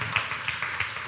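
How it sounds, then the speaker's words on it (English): Hand claps from a church congregation during a sermon, a few evenly spaced claps sounding somewhat distant against a steady wash of room noise. "I hear some hand claps"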